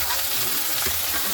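Boiled chicken feet going into a hot pan to be sautéed, giving a steady close sizzle and frying crackle with a brief stirring scrape near the end, no talking.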